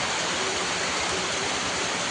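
Steady rain pours outdoors in a dense, even hiss with no breaks or voices, close and moderately loud throughout.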